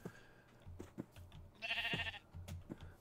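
Sheep in TerraFirmaCraft bleat once in a bright, nasal, wavering call, while soft, evenly spaced footsteps thud along quietly around it.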